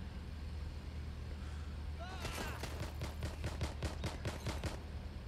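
Rapid automatic gunfire in the video game Watch Dogs: Legion, a burst of about ten evenly spaced sharp shots over a steady low hum, moderately loud.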